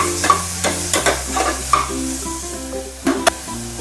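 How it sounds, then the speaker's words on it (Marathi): Crushed garlic sautés with onions in a pan for dal khichdi. A steady sizzle runs underneath, broken by repeated scraping and stirring strokes that sound close and clear, with no voices. "आणि हा ठेचलेला लसूण टाकून घेऊ आणि चांगलं परतून घेऊ"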